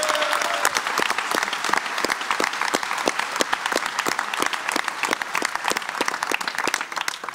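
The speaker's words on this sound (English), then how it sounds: "A big applause for Oyer." Conference attendees at a Python developer gathering's closing session applaud in a long, steady burst, with individual sharp claps standing out against the crowd's continuous clatter and no one speaking.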